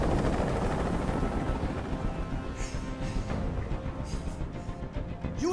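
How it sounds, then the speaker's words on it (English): A helicopter in the video game Detroit: Become Human drones with a steady rotor throb, moderately loud and continuous, with a few faint thuds and scrapes over it. "Tell that helicopter to get out of here."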